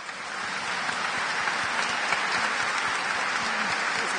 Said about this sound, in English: That's a big clap for them.